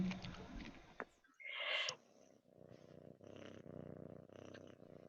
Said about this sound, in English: Whose pussycat is purring?